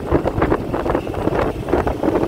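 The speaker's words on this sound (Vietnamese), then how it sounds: "Quá lớn, cái sức gió nó cũng là lớn nữa" Strong gusting wind roars over the microphone on the Co Chien bridge above the wide Co Chien river in Vietnam, a loud, continuous buffeting rumble with no voices.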